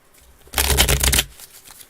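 A deck of cards being shuffled during a tabletop mystery game, one crisp burst of riffling lasting under a second, close and clear against a quiet room.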